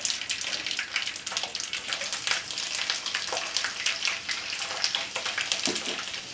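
Mustard seeds, cumin and garlic cloves sizzling and popping steadily in hot oil, a continuous bright crackle with scattered spits, heard up close without talk.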